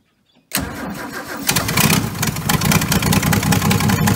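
A barn-find Holden VC ute engine cranks briefly and catches, then runs loud and rough close by, with a big exhaust manifold leak and a crack. Its uneven idle pulses steadily and no one talks over it.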